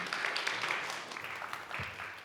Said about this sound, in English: Give a quick applause for Ana Maria Caballero